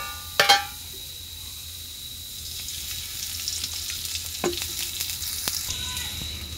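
Spices for a fish-head and bottle-gourd-greens curry fry in a pan with a steady, close sizzling hiss, opened by a couple of sharp clinks and followed by occasional scrapes and taps.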